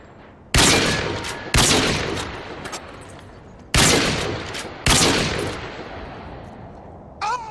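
Call of Duty Modern Warfare 2 gunfire on the Scrapyard map: four loud, sharp shots, each cutting in abruptly and trailing off in a long echoing decay, spaced about a second or two apart, with a short electronic blip at the end.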